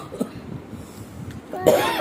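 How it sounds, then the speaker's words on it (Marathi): A child coughs, a few soft rough coughs followed by a louder harsh cough at the end, close and alone without talk. "खोकला बी येतोय"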